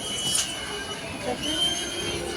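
A train rumbles and clatters nearby with a faint metallic squeal, continuous background noise without clear speech.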